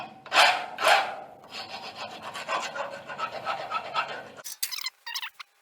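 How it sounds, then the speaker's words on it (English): A metal file rasps harshly against steel pipe edges, rounding them off, in a few close, grating strokes, then several shorter scrapes with squeaky edges. "I then got a file, guys, and I've just rounded these edges off. Pretty horrible noise."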